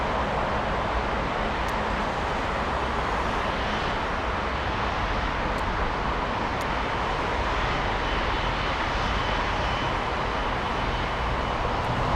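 A Lufthansa airliner bound for Dubai at Frankfurt Airport, its jet engines making a steady, dense roar that stays even and fairly close, with a few faint clicks.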